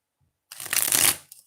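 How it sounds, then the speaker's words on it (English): A deck of tarot cards is shuffled once, a single close, loud riffling rush lasting about half a second after silence, tapering off with a faint tap at the end. "This is the last shuffle, okay?"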